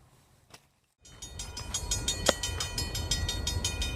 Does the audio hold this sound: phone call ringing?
no